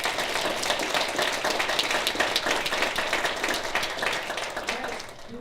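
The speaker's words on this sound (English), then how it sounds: "can I have a round of applause for our panelists" An audience at a sports and society panel session applauds the panelists, producing a dense, even wash of clapping that tapers off slightly at the close.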